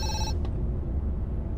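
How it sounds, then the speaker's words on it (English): A telephone rings in the video game Zoochosis, a short electronic bell trill that cuts off abruptly, followed by a low background rumble. "Oh, phone."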